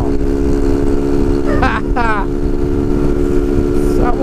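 A tuned Honda CG Titan motorcycle engine drones loudly and steadily close by, under a rider's voice speaking briefly in the middle.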